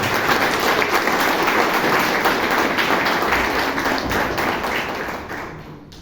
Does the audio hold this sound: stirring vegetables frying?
no